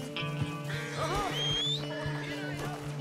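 A horse neighs while being ridden in Red Dead Redemption 2, a short rising and falling whinny in the middle of steady background game sound.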